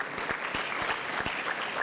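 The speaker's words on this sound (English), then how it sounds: "a hand of applause for our panelists" Conference audience applauding panelists at a renewable energy expo, a steady sustained roar of many hands with a few deeper thumps mixed in, evenly loud throughout.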